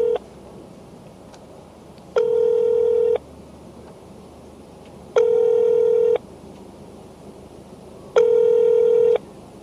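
A telephone line ringing out three times in evenly spaced one-second bursts, clear and alone over faint background hiss, while a phone call to a guest is being connected during a Korean news broadcast.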